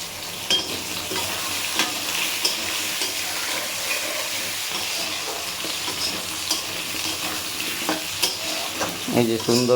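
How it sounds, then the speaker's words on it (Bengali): Potatoes frying in oil in a pan for a Bengali fish kalia, a continuous close sizzle with frequent stirring scrapes and clinks throughout, no talking. "এই যে সুন্দর করে আলুটাকে ভেজে নেব"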